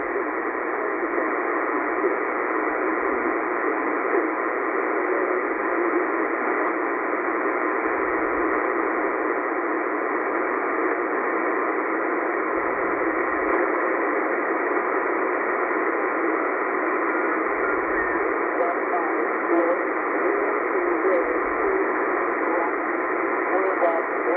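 Steady loud shortwave static hiss at 5450 kHz with a faint, buried Royal Air Force voice transmission underneath, received at night at home, continuous throughout with occasional low thumps.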